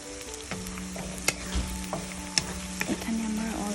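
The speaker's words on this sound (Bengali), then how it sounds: "সেগুলোকে আমার আরও সুন্দর করে একটু ভেজে নিতে হবে" Shrimp frying in a pan, a close crackling sizzle punctuated by sharp spatula clinks and scrapes, with a low steady hum underneath and no speech.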